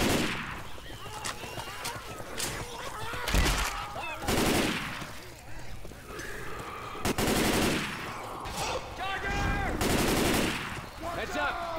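Heavy automatic gunfire from the zombie shooter Left 4 Dead 2 in the Dead Center campaign, loud repeated bursts with short pauses between them, over game noise and occasional character voices.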